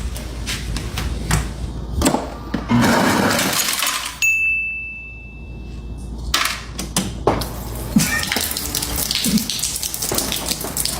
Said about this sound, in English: this fridge, and it's like, it's a typical water, and ice dispenser